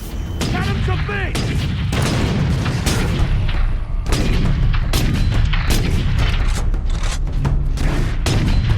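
Heavy cannon fire in the Warhammer 40K Space Marine video game booms repeatedly in loud, closely spaced blasts amid dense battle noise, with shouted voices mixed into the chaos.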